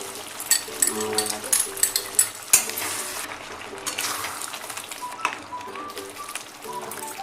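Ghee stirred into a pan of Kolkata-style Bengali chicken rezala, with a spoon scraping and clinking against the pot over a soft simmering sizzle, close and moderately loud.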